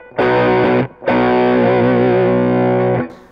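Electric guitar on the bridge humbucker through a Klon-style overdrive pedal with reverb, a loud driven chord held, briefly cut, then sustained with wavering vibrato before stopping; no talking.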